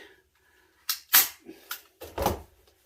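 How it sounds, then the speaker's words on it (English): A staple gun fires staples through fish skin into a commercial taxidermy body, four or five sharp close snaps spaced irregularly with quiet gaps between them. "Then I'll get my staple gun"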